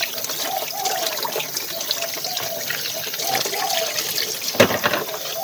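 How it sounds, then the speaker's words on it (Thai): Tap water runs steadily as fish is rinsed under it, a close, continuous splash and trickle with small knocks and one brief louder clatter near the end. "ล้างดีๆนะครับ ล้างสะอาดเราทำกิน เอง นะครับ ต้องสะอาดสะอาด"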